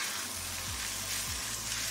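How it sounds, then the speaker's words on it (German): Noodles fry in a pan over high heat, giving a loud, steady sizzle and crackle throughout, with a couple of brief low sliding scrapes as the food is moved, and no talking. "Wir wollen das hier schön anbraten."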